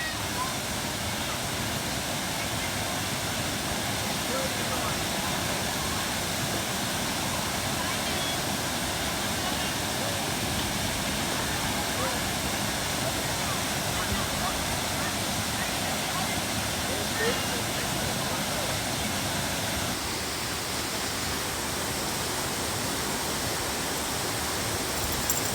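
A waterfall at Fonferek's Glen in Green Bay, Wisconsin roars with a dense, constant broadband rush that stays loud and unbroken throughout.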